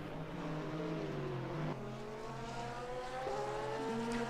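Porsche and other sports-prototype race cars in a night sim race at Spa, engine notes droning and shifting pitch as they pass and downshift, a steady layered whine at moderate distance.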